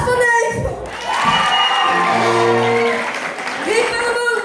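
A crowd at a youth carnival council act claps and cheers loudly in a dense, continuous roar of applause with shouting voices. It swells and holds through the middle, and a voice calls out over it.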